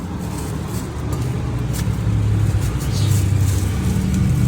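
A car passing on a street beside a roadside batagor food stall, a steady low engine rumble that swells and stays loud across the whole stretch, with no talk over it.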